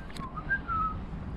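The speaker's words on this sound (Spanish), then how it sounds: "Silbando." A single person whistles a short, wavering tune, fairly quiet over a low background rumble, with no talking, at an abandoned rural estate in Spain.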